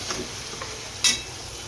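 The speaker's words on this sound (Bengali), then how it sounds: "এই পেস্টের কাঁচা স্মেলটা মিটা পর্যন্ত আমি একটু ভাজা ভাজা করে নেব" Spice paste fries softly in a pan, a low steady sizzle broken by a few light scrapes of stirring and one sharper clink near the end.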